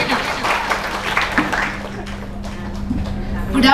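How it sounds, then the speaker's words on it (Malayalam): An audience at a wellness company recognition event applauds, a sustained patter of many hands clapping that runs the whole time, rising slightly at the end with some voices mixed in. "കൈയടിച്ചോളൂ."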